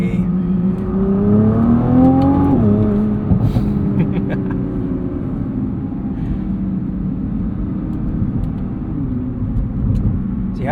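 A 2023 Nissan GT-R's 565hp engine climbs in pitch as it accelerates hard, drops back after a shift, then settles into a steady cruising hum with road noise underneath.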